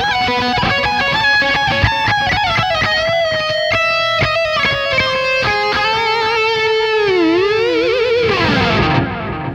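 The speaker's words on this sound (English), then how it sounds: "let's try this lo-fi delay" An electric guitar runs through a lo-fi delay on a Sonicake Matribox multi-effects unit, sustained distorted notes and chords repeating in hazy echoes, then bending and wavering down before fading out.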